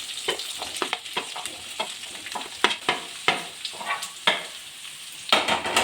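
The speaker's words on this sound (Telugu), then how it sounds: "ఆనియన్స్, పచ్చిమిర్చి మగ్గించుకోవాలండి. అవి మగ్గిన తర్వాత దాంట్లోనే గంజగడ్డ ముక్కలు కూడా వేయాలండి." Onions, green chillies and potato pieces sauté in a pan over a low flame, making a steady crackling sizzle broken by frequent sharp clicks and scrapes of stirring. There is no talk.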